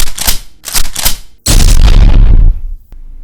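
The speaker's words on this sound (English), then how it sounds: "I popped the shotgun." Shotgun loaded with buckshot, loud blasts: a couple of sharp reports followed by a heavier, longer booming roar that cuts off abruptly, all close and very loud.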